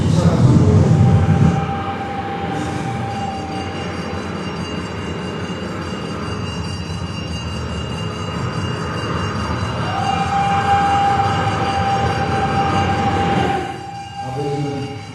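A train rumbles past close by, a loud steady roar of rail wheels and carriages with long high squealing tones, fading slightly near the end.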